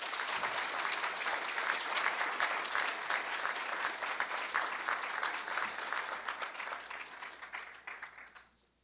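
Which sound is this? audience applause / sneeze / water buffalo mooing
audience applause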